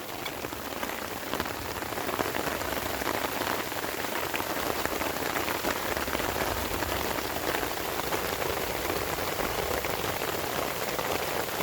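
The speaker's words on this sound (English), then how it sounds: "I'm feeling droplets about right there." Rain falls steadily during an outdoor Independence Day grilling session, a dense, constant patter of drops on surfaces filling the whole stretch, close and even, with no voices.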